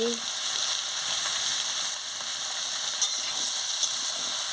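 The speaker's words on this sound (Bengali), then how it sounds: "দিয়ে ভালো করে আনাজটাকে নাড়িয়ে নিচ্ছি।" Chopped vegetables fry in oil with salt, chilli powder and turmeric, stirred steadily in a pan for a Bengali fish curry with brinjal, potato, carrot and beans; a constant close sizzle with soft scraping, no voices.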